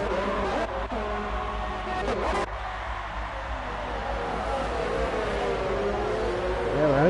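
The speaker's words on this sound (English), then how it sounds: "Aaron goes so deep under brakes, he had it all locked up there." Racing cars in the F1 2019 video game at the Brazilian Grand Prix, a steady engine drone with a brief tyre-locking screech under heavy braking in the opening seconds, the motor note rising and falling afterwards.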